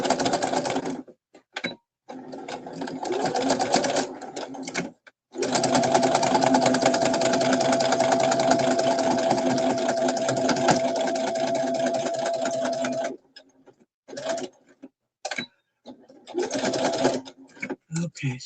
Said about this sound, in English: So this only going to take us a minute to sew across here.